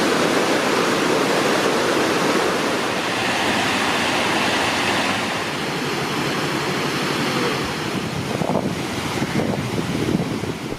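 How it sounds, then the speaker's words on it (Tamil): Silver Falls in Kodaikanal gushes after days of continuous rain, a loud, dense roar of pouring water that rushes on without a break, mixed with gusts of wind buffeting the microphone and no voices. "கொடைக்கானலில் பெய்து வரும் தொடர் மழையால் வெள்ளி நீர் வீழ்ச்சியில் தண்ணீர் ஆர்ப்பரித்து கொட்டுகிறது."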